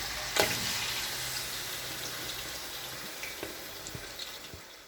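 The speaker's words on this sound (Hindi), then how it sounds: "ऑयल गर्म हो गया है। अब इसमें मैरिनेट किया हुआ गोश्त डाल लेंगे।" Marinated mutton hits hot oil in a pan for biryani, giving a broad, steady sizzle with a sharp burst as the meat goes in, then continuous frying crackle close by.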